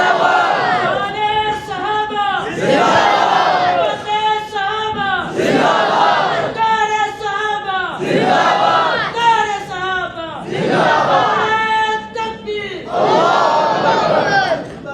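A large crowd at a religious seminar at Tarnol Chowk, Islamabad, chants slogans in loud, rhythmic call-and-response bursts, voices rising together in repeated surges with brief gaps between each shout.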